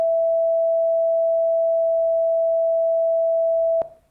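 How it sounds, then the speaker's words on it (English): Two synthesized sine tones sound together at nearly the same pitch, making a steady, clear tone with a slow beat that holds for almost four seconds and then cuts off with a brief click. "we can hear that there's actually a small beat tone like this"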